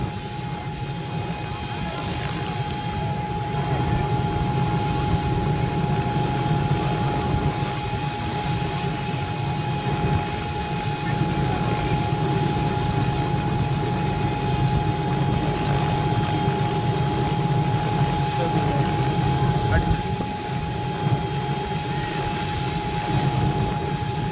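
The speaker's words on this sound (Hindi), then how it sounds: "दूल्हा और दुल्हन को हेलीकॉप्टर से नीचे उतारने की तैयारी" A helicopter carrying a bride and groom sets down amid a huge crowd in Barmer, its steady engine and rotor roar loud and continuous throughout, with faint voices mixed beneath.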